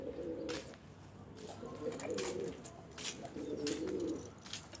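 Pet pigeons and doves cooing in repeated low, soft bursts, fairly close, over a steady background hiss with faint high chirps.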